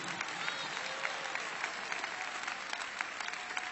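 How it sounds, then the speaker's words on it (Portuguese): A church congregation at a special service at a world headquarters in São Paulo claps together, quiet and somewhat distant, with rhythmic sharp claps standing out against a steady crowd wash. "Mais forte as palmas para Jesus"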